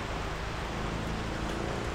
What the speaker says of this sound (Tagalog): umuulan dito sa amin